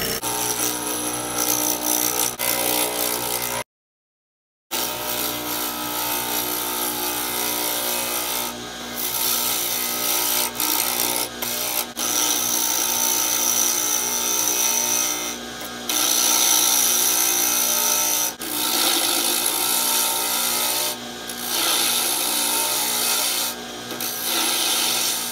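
A wood lathe spins while a tool shapes a wooden tobacco pipe stummel, producing a continuous rubbing, rasping scrape that keeps up for the whole stretch. A brief gap of silence falls early on, and nobody talks.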